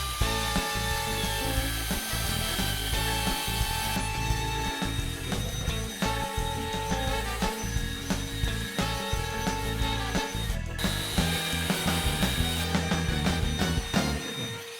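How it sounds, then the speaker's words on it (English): A power drill driving a brake hone tool at slow speed to clean the surface of a brake rotor on an R32, a loud continuous grinding whir with a gritty abrasive scraping that stays steady throughout. "we got our rotor cleaned up a little bit using the brake hone tool, which worked pretty well"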